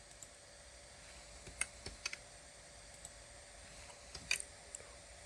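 Someone types on a computer keyboard in short, sparse bursts, giving faint, close key clicks spaced irregularly over a steady background hum, with nobody speaking.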